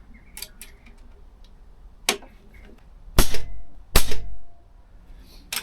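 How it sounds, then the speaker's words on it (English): JTS Dead Center take-down pellets fired from an air rifle: two sharp, loud cracks about a second apart, each with a brief tail, after a fainter earlier snap over quiet background. "Strangely, both rifles feel a little bit snappy on firing."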